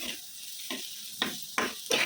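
Onion frying in a pan for dim posto, a quiet sizzle punctuated by four distinct scraping stirs of the spoon at irregular intervals, close-up and without talk.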